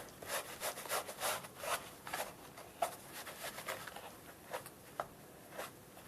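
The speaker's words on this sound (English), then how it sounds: "Just keep on rubbing until you get what you want off." Black paint being rubbed off a Worbla thermoplastic piece with steady, repeated scrubbing strokes, each a soft broadband swish. The strokes come in quick bursts that gradually thin out and slow, close up, with no talking.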